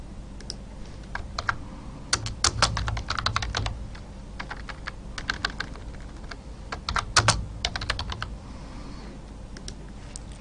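Typing on a computer keyboard while writing C++ code, with bursts of rapid, crisp key clicks separated by short pauses, close and fairly loud, with no talking.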